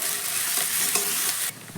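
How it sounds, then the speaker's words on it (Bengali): Sliced onion frying in hot oil in a pan for pasta, a steady close sizzle with soft stirring scrapes, the sizzle dropping away sharply near the end. "ঠিক এইভাবে পেঁয়াজটা তেলের মধ্যে দিয়ে দিলাম। একটু হালকা করে পেঁয়াজটাকে ভেজে নেব।"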